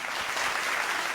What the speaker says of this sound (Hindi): बहुत सारी तालियां टीम ए के लिए होनी चाहिए।